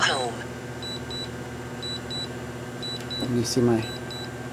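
Short electronic beeps from a DJI Phantom 3 flight simulator repeat in regular pairs during return-to-home, sounding quietly in the background while a person speaks briefly.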